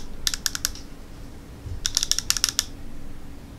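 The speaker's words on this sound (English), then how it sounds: "it's three clicks to get into the menu" Button clicks from a Fuchai R7 flashlight: a quick burst of four sharp clicks, then after a short pause a faster run of about eight clicks, crisp and close with no talking.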